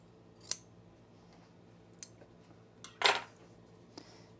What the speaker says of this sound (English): I'm just gonna cut this off so I don't have to pull the thread off.